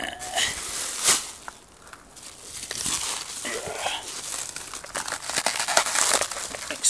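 Packaging wrap being torn off newly delivered electric car batteries for a Reva G-Wiz, with a run of crinkling, ripping bursts close by throughout, no talk over it.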